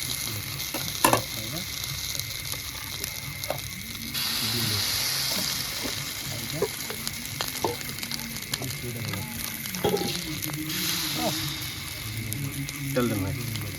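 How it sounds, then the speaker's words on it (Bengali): Eggplant frying in oil in a wok at a village cooking gathering, with a loud continuous sizzle and occasional clinks and stirring knocks, and faint voices in the background. "আমরা বেগুনটা ভেজে নেব।"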